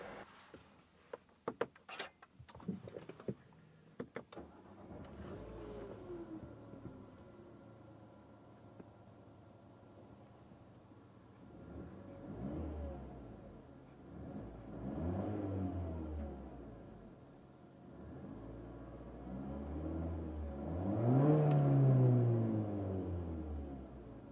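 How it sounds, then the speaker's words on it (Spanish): A Nissan Qashqai engine turns over with a few sharp clicks, then settles into a quiet, soft idle with occasional gentle revs. "Voy a encender el coche para que escuchéis cómo suena"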